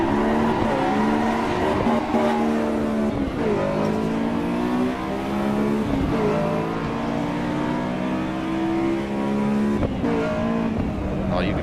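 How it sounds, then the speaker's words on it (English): A Honda VTEC engine at wide open throttle in the Assetto Corsa racing game drones loud and steady, with harmonic pitch climbing through each gear and dipping at the shifts, then rising again. Faint tire noise sits under it. "you can hear that VTEC big time. That boggy sound. I'm wide open throttle right now."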